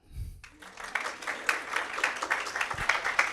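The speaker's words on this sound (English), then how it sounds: "And now applaud." A burst of applause from a crowd, many hands clapping together in a steady, dense patter that carries on for a few seconds.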